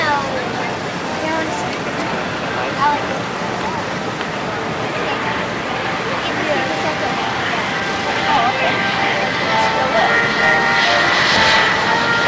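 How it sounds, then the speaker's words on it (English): An A-10A Thunderbolt II lands and rolls out at an airshow at Davis-Monthan AFB, Arizona: a steady, loud jet engine roar that holds and swells slightly toward the end, with a voice speaking over it. "Okay, on the ground and rolling out now, Captain Bellamy, 357 Fighter Squadron."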